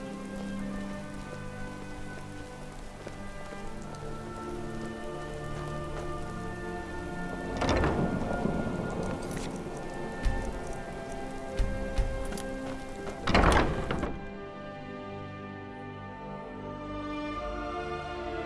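Steady rain patters on surfaces in the video game Skyrim SE, with deep rolls of thunder swelling twice, loud and close, before the rain carries on alone behind a soft musical drone.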